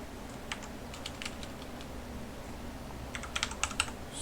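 Keystrokes on a computer keyboard as an email address and password are typed into an Orchid admin panel login, scattered soft clicks at first, then a quicker burst of taps near the end, alone over faint room hiss.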